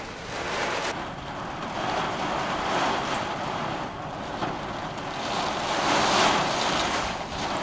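Typhoon wind and rain lash Tokyo in June 2012, a loud, unbroken roar of gusting wind buffeting the microphone, swelling and easing in waves throughout with no voices.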